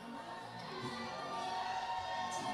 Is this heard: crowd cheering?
yes